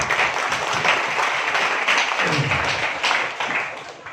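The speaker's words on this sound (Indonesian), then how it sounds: "Tepuk tangan untuk Desa Padang Asri." An audience at a village ceremony in Mojokerto applauds Padangasri village for its model youth organization, a steady round of clapping that swells and then slowly fades toward the end.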